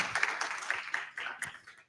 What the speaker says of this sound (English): Clap it up for her, please. Clap it up.